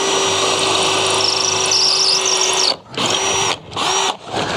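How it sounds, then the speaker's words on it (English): A power drill bores through wood with a loud, steady whine. After a few seconds it cuts out and restarts in three short bursts. "And I shall drill through there just carefully."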